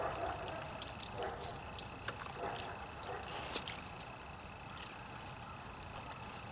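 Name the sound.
rinsing car battery with clean water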